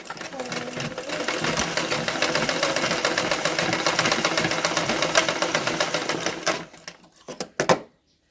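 A sewing machine set to stitch setting five runs at a fast, even mechanical chatter for about seven seconds, giving loose stitches, then slows into a few separate clunks and stops; a voice speaks faintly beneath it.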